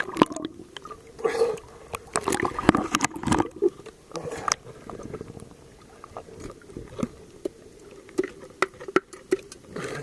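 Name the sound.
hollow sound from tapping a seawall H-pile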